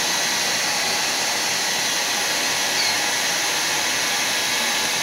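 Hair dryer blowing close and steady on a fresh spray-paint stencil, a continuous loud broadband whoosh holding at one level throughout with no talk.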